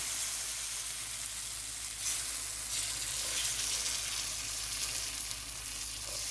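A mung bean pancake sizzles steadily in a hot pan, a close, even crackle of frying oil with no talking.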